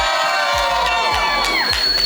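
A convention panel audience keeps cheering, a loud sustained roar of whoops and high shouts from a packed room, with some voices rising above the crowd.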